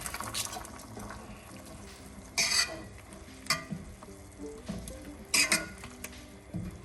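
Wet stirring and scraping as spices, onion and garlic are mixed into boiling chicken in a pot, with bursts of bubbling and sizzling at intervals over a low simmering background.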